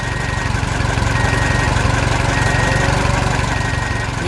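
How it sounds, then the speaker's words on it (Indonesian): A big tractor hauling a trailer loaded with trees runs with a steady, loud, throbbing engine drone that stays constant throughout, close by and uninterrupted. "Traktor besar membawa trailer penuh pohon."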